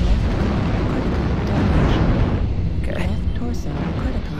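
Weapon fire and explosions during a battle in the mech combat game MechWarrior Online, heard as a dense, loud, continuous rumble of blasts and booms that thins slightly near the end.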